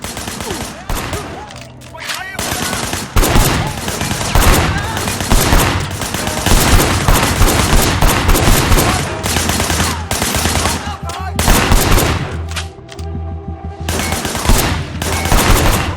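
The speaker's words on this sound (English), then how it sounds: "Shooting at the guys over there." Sustained gunfire in the Sleeping Dogs video game on PS3, dense rapid bursts of automatic shots rattling almost continuously at high volume with brief lulls between volleys.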